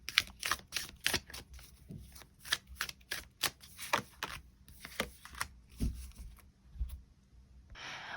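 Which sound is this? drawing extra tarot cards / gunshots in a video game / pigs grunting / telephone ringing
drawing extra tarot cards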